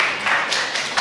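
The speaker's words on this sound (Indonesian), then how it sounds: "tepuk tangan untuk yang lain" A classroom audience of high school students applauds at the end of a presentation, a steady close wash of clapping hands with no voices.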